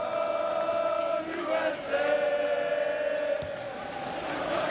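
A big, noisy crowd at a soccer stadium outside Chicago during a United States versus Trinidad and Tobago match, a steady roar with swells and cheers under a commentator's voice.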